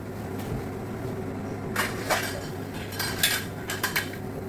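A metal lid is set onto a pressure cooker of mutton soup, giving a few sharp clanks and rattles near the end over a steady low kitchen hum.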